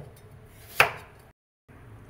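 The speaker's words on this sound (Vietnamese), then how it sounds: "Tiếp đến là mình cắt củ cà rốt" A single sharp knife chop through a carrot on a cutting board, close and crisp, with a quiet pause after it.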